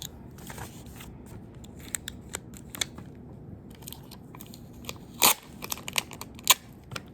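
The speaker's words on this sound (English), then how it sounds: "I'm going to put some tape in the corners" Tape is torn and pressed onto the corners of a notebook page, giving scattered crackles and sharp rips over a soft background hiss, with one loud tear standing out.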